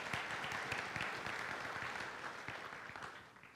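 An audience at a policy conference general session claps in a steady round of applause that fades a little toward the end, with no one speaking over it.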